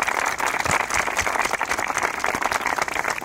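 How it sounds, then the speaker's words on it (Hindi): Audience applause at a Hindi talk-show gathering, a dense steady wash of many hands clapping close and loud, continuous for the whole stretch with no voices. "उनके लिए तालियां और वेलकम।"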